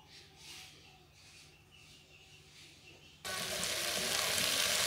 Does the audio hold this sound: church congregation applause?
no